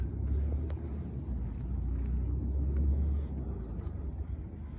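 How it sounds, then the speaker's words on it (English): A steady low motorcycle engine rumble drones about half a mile away across a river in Ohio, with no voices and a faint hum throughout. "you hear the motorcycle in the background like half a mile away."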